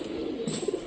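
A local Rajshahi flying pigeon, a captured blue hen with tied wings, gives soft low coos close by, a few short pulsing calls over a faint hiss, with no talking.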